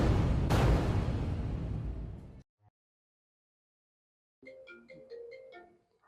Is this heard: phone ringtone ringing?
yes